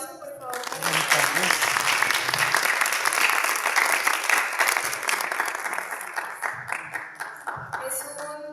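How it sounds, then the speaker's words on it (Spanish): An audience at a book presentation breaks into warm applause, building quickly into sustained dense clapping that carries on for several seconds before tapering slightly, with voices murmuring faintly beneath it. "Otro aplauso, por favor."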